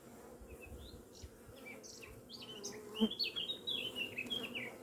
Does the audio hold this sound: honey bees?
yes